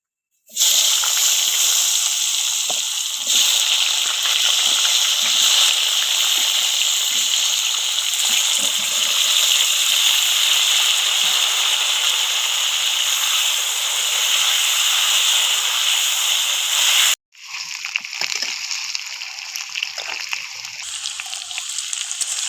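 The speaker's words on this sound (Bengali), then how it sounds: "এবারে এই মাছ ভাজার তেলে আমি আলুটা ভেজে নেবো" Potatoes fry in a wok of leftover oil from frying fish, a loud continuous close sizzle and hiss that breaks off abruptly, then resumes slightly quieter.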